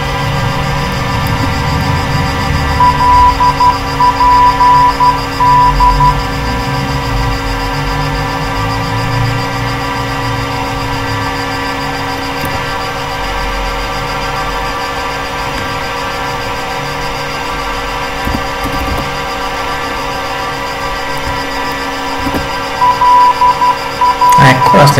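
Twin engines of a Learjet 45 in Flight Simulator 2002 drone steadily at a constant pitch, a continuous hum that never lets up.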